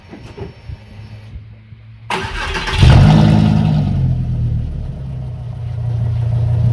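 A VW Golf IV V5 with a used replacement exhaust from the catalytic converter back: a few quiet clicks, then the engine catches and rises into a loud, deep rev that settles into a steady, throaty idle, close by.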